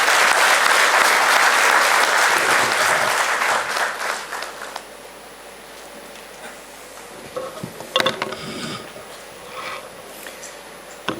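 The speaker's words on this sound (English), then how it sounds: "Can you please welcome sir with a big round of applause?" Auditorium audience applauding to welcome a speaker at a youth dialogue event, loud dense clapping at first that thins out after a few seconds into scattered claps and faint room noise.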